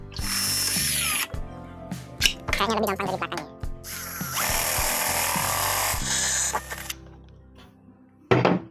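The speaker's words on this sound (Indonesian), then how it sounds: "Langsung kita bor ke sini." A power drill with a 22 mm bit whirs loudly in several bursts, starting and stopping, with a person speaking briefly in Indonesian between runs.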